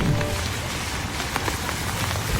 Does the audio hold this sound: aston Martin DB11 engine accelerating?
no